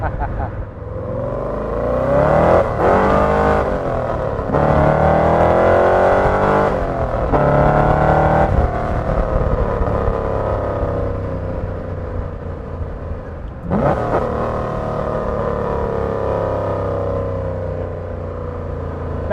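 A 1963 Chevrolet Corvette Stingray accelerates hard through several quick gear shifts, its engine note climbing loudly with each pull and dropping at each shift, with a voice talking over parts of the run.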